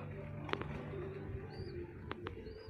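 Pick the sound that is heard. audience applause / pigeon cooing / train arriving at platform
pigeon cooing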